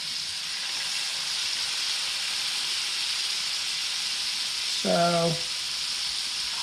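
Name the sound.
sous vide filet steak sizzling while browning in pan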